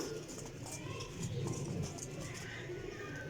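Flying pigeons in a loft coo in a low, continuous murmur that stays fairly faint against a steady background hiss, with no clear voices.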